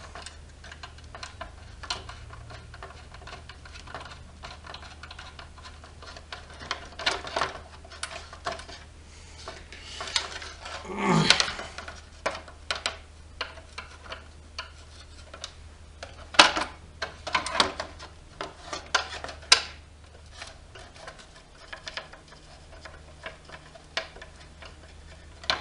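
A metal nut is threaded onto a bolt while mounting a plate on a garage radio, giving a series of small irregular ticking clicks with a few louder rattles and scrapes.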